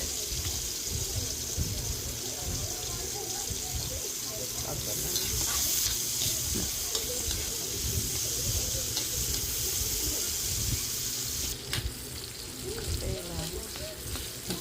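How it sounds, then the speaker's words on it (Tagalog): Onions sauté in a hot pan for Batangas-style pochero, giving a continuous loud sizzle and hiss with occasional stirring scrapes that runs throughout. "Igisa lang natin"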